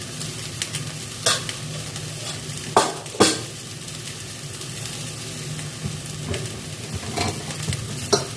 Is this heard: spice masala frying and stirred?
yes